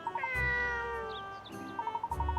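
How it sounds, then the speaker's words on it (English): A cat meows repeatedly in Layton's Mystery Journey, several drawn-out calls over a steady game backdrop with repeated chiming tones. "That's the cat I was chasing."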